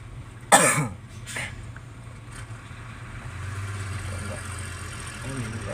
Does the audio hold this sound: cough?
yes